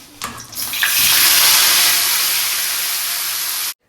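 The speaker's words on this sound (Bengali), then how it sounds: "একটু জল ফল দিয়ে বাঁচাই" Water pours steadily onto a potted plant on a flat balcony, a broad hissing splash starting after a brief clatter, running loud and close for about three seconds, then cutting off abruptly.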